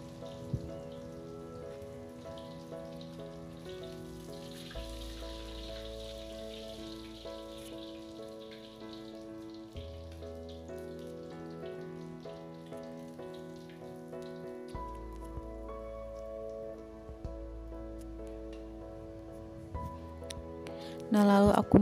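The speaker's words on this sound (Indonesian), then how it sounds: "ini aku mau goreng ikan ya, Mam. Ini aku gorengnya satu aja" Mujair fish frying in a pan of hot oil, a steady crackling sizzle that runs throughout, with a low background tone underneath.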